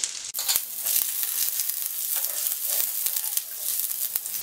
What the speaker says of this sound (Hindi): अब इसमें अदरक डालेंगे और उसको भी 10 से 20 सेकंड के लिए फ्राई करेंगे।